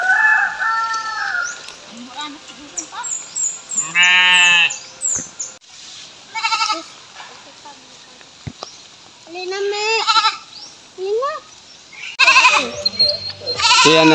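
A goat bleats in strained, repeated calls while it is caught, with a rooster crowing and other farm animals nearby and someone talking over parts of it.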